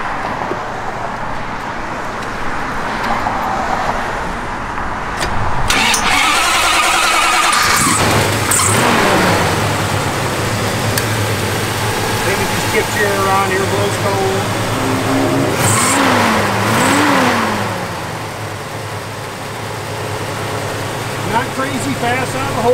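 A 1972 Plymouth Duster's engine revs hard inside the car and the tires spin, giving a loud, sustained roar with rising and falling pitch sweeps and some squeal, starting after a brief quieter stretch.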